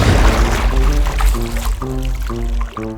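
Water pumped out of a Lego swimming pool, a close, gurgling pour and trickle with bubbly tonal sputters toward the end, loud and alone.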